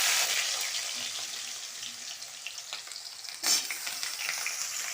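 Cut potatoes hit hot oil already seasoned with five-spice, a steady close sizzle that fades slightly, with a brief stir or splash partway through.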